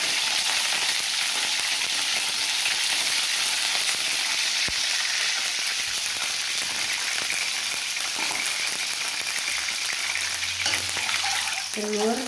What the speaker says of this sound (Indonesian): Pertama-tama kita goreng dulu telur.